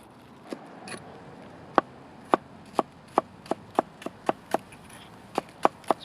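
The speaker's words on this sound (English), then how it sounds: "Just a couple of quick twigs here to get the fire going." An Extrema Ratio Shrapnel One knife chops twigs for a fire outdoors: about a dozen crisp, sharp woody chops, a few irregular at first and then fairly regular, close and distinct against quiet.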